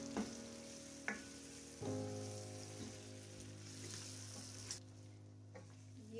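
Spice-coated vegetables for a quick carrot pickle fry over medium heat, a soft, steady sizzle with occasional stirring clinks and a low hum underneath.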